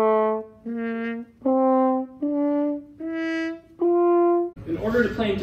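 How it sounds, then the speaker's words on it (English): A valveless natural horn plays a slow scale of six sustained notes, the player's hand inside the bell shaping each pitch, clear and close, followed by a brief burst of noise at the end. "On a natural horn, however, because there aren't any valves, you have to use your hand inside the bell."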